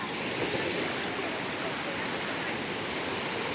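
Stormy Black Sea waves rolling onto the shore under an overcast sky, a continuous loud roar of surf and wind noise with no break.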